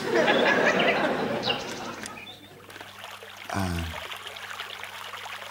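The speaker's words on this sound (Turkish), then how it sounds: "Dere şırıltısı." Flowing water babbles steadily throughout, with a burst of voices near the start and a brief louder splash or voiced sound partway through.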